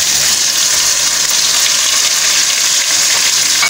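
Onion and ginger garlic paste fry hard in a pan with chopped tomatoes, giving a loud, steady broadband sizzle that hisses without pause for several seconds, with no voices.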